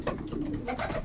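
Adult pigeons coo in a loft in a short, close, moderately loud burst of low throaty calls.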